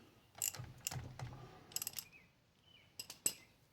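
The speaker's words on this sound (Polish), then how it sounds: "Bierzemy grzechotkę i próbujemy ręcznie odkręcić śrubę." A hand ratchet wrench strains against a wheel bolt during car shock absorber and spring work, giving several short bursts of sharp metallic clicking separated by pauses, close and fairly quiet.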